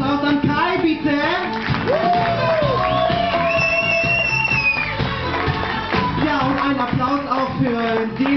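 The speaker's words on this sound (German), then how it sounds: "Ein Applaus an Kai, bitte!" Live studio audience cheering and shouting in applause for a camera operator named Kai, a loud dense crowd roar with whoops and rising voices that holds steady throughout, under music-like tonal sounds.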